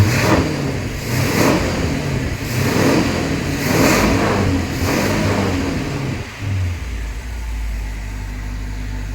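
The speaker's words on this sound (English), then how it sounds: "the old Oldsmobile 215 runs pretty good, sounds pretty healthy, and is totally gutless." A 1973 Chevrolet Vega fitted with an Oldsmobile 215 engine revs loudly in repeated rising and falling bursts, then drops to a low steady idle rumble, close by with no voices.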